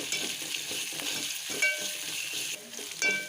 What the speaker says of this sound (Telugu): ఇది ఒక్క నిమిషం ఫ్రై కానివ్వాలి